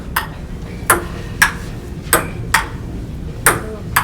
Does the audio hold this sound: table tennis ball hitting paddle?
yes